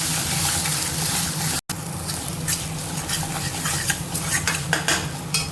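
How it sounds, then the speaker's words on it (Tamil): Close, continuous sizzling of ground masala paste sautéing in a pan for egg curry, with a spoon stirring and scraping through it, briefly cut off once, then frying on steadily. "அப்படியே அரைச்சி நல்லா இதோட பச்சை வாசனை போகிற வரைக்கும் நல்லா வதக்கிக்கலாம்"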